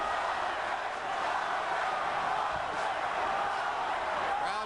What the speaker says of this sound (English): Crowd chanting for Vargas.